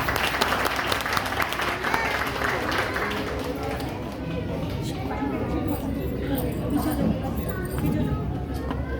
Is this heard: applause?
yes